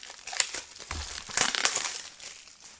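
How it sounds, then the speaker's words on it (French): Plastic shrink wrap is peeled and crumpled off a Blu-ray case, producing close, crisp crinkling and rustling bursts over a few seconds. "Je vais le déballer."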